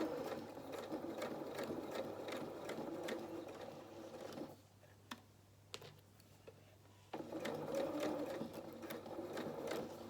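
A domestic sewing machine stitches fabric for children's shorts and dungarees. It makes a fast, steady mechanical whir and ticking, pauses for a few seconds with faint clicks, then resumes stitching at full speed.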